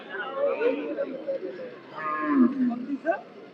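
Cattle moo at a livestock market, with low drawn-out calls close by and people chattering in the background throughout.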